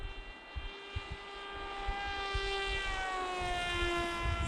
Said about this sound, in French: celle-ci on l'entend à quasiment 1000 mètres dès qu'on met un peu de gaz